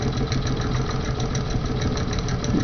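A small steam engine with a flywheel fixed to its shaft runs slowly and smoothly, giving a steady, close, continuous low chugging hum with no talk over it.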